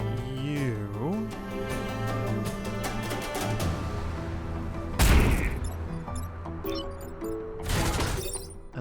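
Mech weapons firing in the tactical game Into the Breach, two sharp crashing blasts over a layered musical game soundtrack, moderately loud with a short gap between them.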